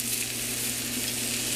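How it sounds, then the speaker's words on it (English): Food dropped into a drizzle of oil in a super hot frying pan, giving a steady, dense, close sizzle with no pauses and no voices. "I'm going to plop this right down in my super hot frying pan."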